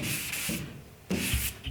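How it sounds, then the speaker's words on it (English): Wet block sanding of automotive primer by hand, rhythmic back-and-forth rubbing strokes in an X pattern close up, a few passes with short pauses between them. "I'm still using my basic principles for block sanding as well"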